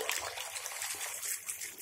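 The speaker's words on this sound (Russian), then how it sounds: "И поэтому мы добавим воды." Water runs into a bathtub as a faint, continuous hiss and trickle, steady from start to end, with no voices.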